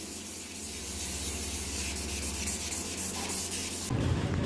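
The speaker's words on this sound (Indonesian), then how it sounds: "Pengamplasan pakai amplas 1000 ini untuk menghilangkan baret-baret yang dalam" Sanding carbon fiber skinned with epoxy using 1000-grit sandpaper, a steady close rubbing scrape that runs continuously and then turns rougher and louder near the end.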